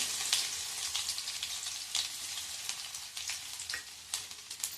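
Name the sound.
garlic cloves sizzling in oil with mustard seeds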